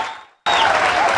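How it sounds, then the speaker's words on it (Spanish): Applause breaks out suddenly after a brief quiet moment, a steady full-room clapping from a church audience honoring a priest, loud and sustained to the end. "Pido un aplauso para el Padre Toro por estar aquí acompañándonos."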